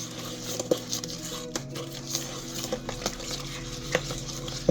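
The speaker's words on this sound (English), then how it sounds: "So we'll start stirring this." A spoon stirring chess pie filling of beaten eggs by hand in a bowl, soft repeated scraping and patter with occasional light clinks against the bowl, close and fairly quiet.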